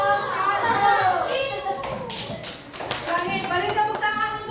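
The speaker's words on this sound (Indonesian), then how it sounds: "Beri tepuk tangan untuk kelompok 1." Primary school class applauding a student group, a burst of scattered children's clapping over lively chatter and voices from the room.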